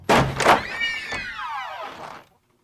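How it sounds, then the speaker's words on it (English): A door flung open in a radio drama: a loud wooden thunk followed by a long creaking hinge groan that slides downward over about two seconds, then silence. "Here I flung open the door."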